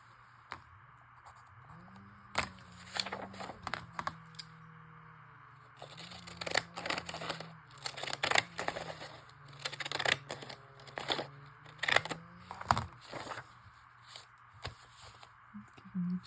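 Scissors snip through paper while a junk journal cover is trimmed, giving a series of sharp, close clicks and crisp cuts scattered over a quiet room, with light paper handling between them.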